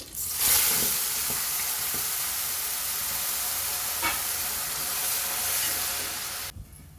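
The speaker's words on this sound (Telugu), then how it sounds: "పచ్చిమిర్చి వేగినాయి కదండి మిక్సీ పెట్టుకున్న పేస్ట్ వేసుకోవాలి" Ground onion and spice paste fries loudly with green chillies in hot oil for crab curry, a dense sizzling hiss broken by a few scraping stirs, close and continuous until it stops abruptly.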